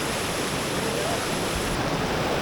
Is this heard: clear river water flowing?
yes